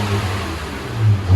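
A 2011 Acura TL V6 with a dual exhaust and deleted mufflers revs steadily and loudly up close, the deep exhaust note swelling toward the end.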